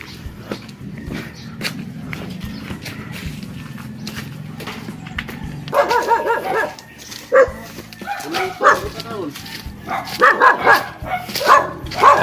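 A dog in a rural province setting in Zamboanga barks several times in quick, loud bursts over steady background noise, with the barking coming in clustered yaps during the second half.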